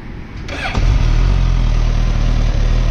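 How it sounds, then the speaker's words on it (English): Motorcycle with its stock exhaust refitted, revved to full throttle for an FIM two-metre maximum sound test; a low idle swells abruptly into a loud, sustained high-rpm roar that holds steady close to the listener. "Stock exhaust is back on, so we're gonna do the FIM 2 meter max test."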